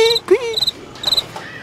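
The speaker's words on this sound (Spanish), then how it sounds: "Ahí me le pone el sonidito del grillo, que suena aquí." A cricket chirping sound effect gives three short, bright trills spaced evenly apart, with a voice speaking briefly underneath.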